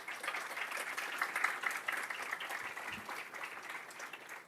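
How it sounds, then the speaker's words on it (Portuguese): Applause from an audience, mostly women, at a public launch event in Bahia. Soft, distant clapping holds steady for a few seconds without any talk. "a salva de palmas para as mulheres"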